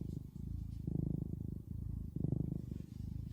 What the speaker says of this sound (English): the purring. Listen.